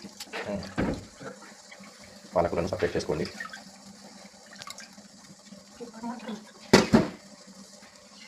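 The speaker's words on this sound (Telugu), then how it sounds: "పాలకూర చక్కగా కట్ చేసుకొని నీటిలో బాగా కడిగి" Chopped spinach is washed in water, giving short bursts of swishing and splashing with a brief tap-like pour in between, under a person speaking.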